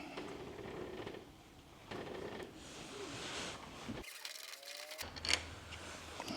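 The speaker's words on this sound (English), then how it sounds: "the first thing I'm gonna have to do is unscrew this this inner piece." Screwdriver unscrewing the inner piece of an Arpha AL501 smart door lock, soft close scraping and clicking of metal against the screw, a brief silent gap, then a sharp click.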